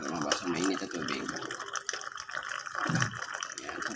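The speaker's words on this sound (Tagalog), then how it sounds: "Pindutin ko na para lumabas ang mainit na tubig." Hot water pours from a water dispenser into a mug in a steady, close trickle while a person talks over it.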